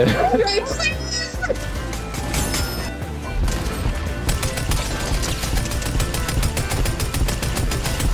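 Gunfire in the Fortnite video game, rapid bursts of shots and impacts packed densely over several seconds, loud and near, with excited voices talking over it.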